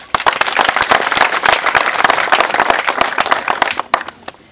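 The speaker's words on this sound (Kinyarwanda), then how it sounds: "ndumva mwamwongera amashyi" A crowd claps in dense, loud applause that runs steadily throughout, fading slightly near the end; no voices stand out.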